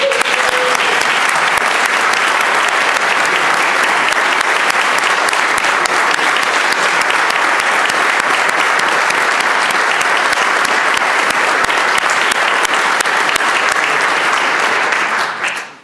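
A rousing round of applause in the Virginia House chamber for National Guard members, a loud, dense, sustained ovation of many hands that runs unbroken for about sixteen seconds before cutting off.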